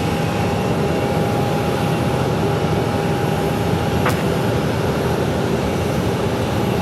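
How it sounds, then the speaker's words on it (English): An Alaska Airlines Boeing 737 on approach into Phoenix Sky Harbor from Seattle, at about 1,500 feet, gives a steady, even broadband roar that holds without letup throughout, with no voices. "that's Alaska Airlines coming in from Seattle to Phoenix Sky Harbor, Boeing 737"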